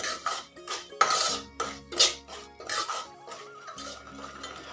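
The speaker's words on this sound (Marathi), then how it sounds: "आता आपला रवा हा गोल्डन रंग येईपर्यंत भाजून घेतला पाहिजे" Semolina roasting in a pan for sheera, stirred with a metal spoon that clinks and scrapes against the pan in irregular bursts, close and moderately loud, with no talking.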